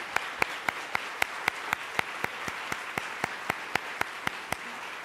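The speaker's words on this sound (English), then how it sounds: "Let's give them all a round of applause." Slow, evenly spaced clapping, roughly one clap every quarter second, for panelists at a civic discussion event, sounding like a single nearby pair of hands repeated steadily for about five seconds rather than a full crowd.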